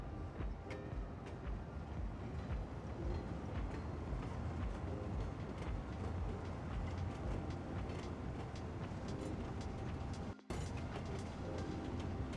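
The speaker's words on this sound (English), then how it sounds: "take the train all the way to Belmont" A train runs along the tracks in the city-building game Cities Skylines 2, giving a continuous rumbling rail roll with faint rhythmic clicks that stay steady, with a brief dropout near the end.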